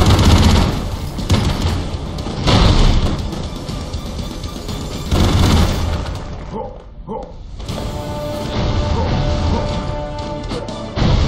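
Dense, continuous gunfire and explosions in the Broforce video game, loud and chaotic, with a brief lull midway before the barrage resumes.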